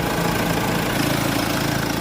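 A Mercedes E Class engine idles steadily, a close, loud, continuous rumble with even vibration and no voices.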